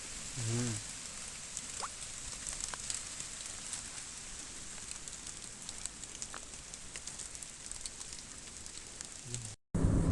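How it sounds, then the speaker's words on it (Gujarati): Steady rain patters down continuously, a dense wash of droplets with occasional sharper drips, fairly faint and uninterrupted for most of the stretch. "ચાલો મિત્રો વરસાદ ચાલુ છે"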